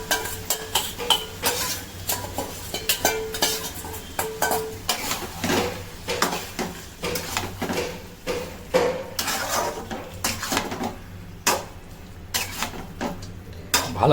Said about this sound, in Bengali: ভালো করে মিক্স করে নেওয়া হচ্ছে পেঁয়াজ,